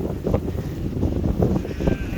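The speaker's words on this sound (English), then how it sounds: "the wind's quite bad up here" Strong wind buffets the microphone on a farm, a continuous loud low roar with gusting swells and no other clear sounds.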